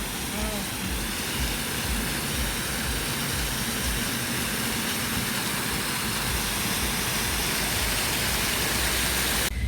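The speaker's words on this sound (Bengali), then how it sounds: "এই দেখুন অনেক সুন্দর একটা পানির ঝর্ণা এখানে" Water fountain at the Atomium in Brussels, a steady loud rushing hiss of falling water that holds unbroken throughout, close and dominant with no pauses.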